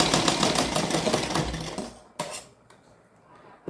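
A sewing machine stitches fabric in a fast rattling run for about two seconds, then stops, leaving a few faint clicks and quiet handling noises.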